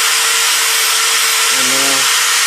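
A carving tool cuts lines into a block of wood with a steady, close, hissing rasp that runs unbroken, and a brief low hum rises near the end.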